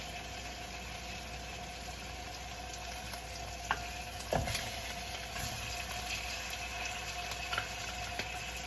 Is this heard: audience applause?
no